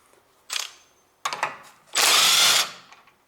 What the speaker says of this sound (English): This is excellent device, this Makita. And now we open that bolt